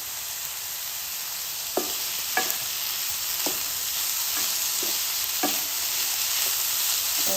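A utensil scrapes a sweet elanji filling around a pan, about seven rhythmic stirring strokes over a constant soft sizzling hiss, close up and with no talking.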